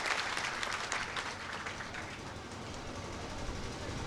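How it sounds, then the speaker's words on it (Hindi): Sustained applause from party workers at a BJP workers' convention in Dimni, Morena district, welcoming a speaker; dense clapping rolls steadily for about four seconds, moderately loud and fairly close, with no talking. "जोरदार तालियों के साथ भूपेंद्र जी का हम सब स्वागत करें।"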